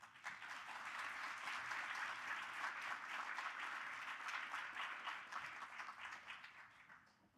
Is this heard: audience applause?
yes